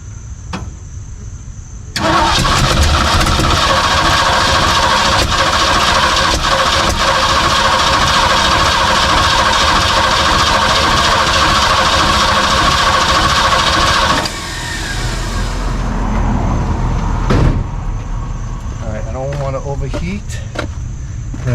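A Ford 289 V8 catches and runs steadily at a loud, close idle, its rumble filling most of the stretch before settling lower near the end, with brief clanks and a little background voice.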